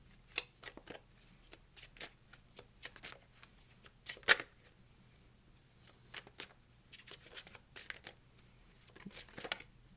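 Tarot cards being shuffled by hand in a quiet room, a series of crisp riffling bursts and soft card slaps at irregular intervals, close and clear.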